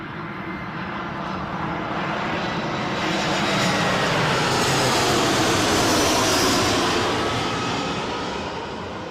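EasyJet airliner inbound from Belfast touching down at Newcastle airport, a loud, steady roar of jet engines that swells gradually and stays broad and sustained, heard from fairly close with no talking.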